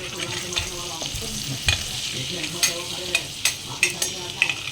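A bay leaf and finely chopped green chili crackle in hot oil with a steady sizzle, and a utensil strikes and stirs the pan in several sharp, irregular knocks.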